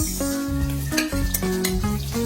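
Garlic and onion sautéing in a pan for a pork minanok dish, a steady sizzle running beneath prominent melodic background music.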